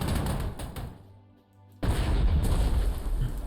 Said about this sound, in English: I wanted to prevent this artillery from firing.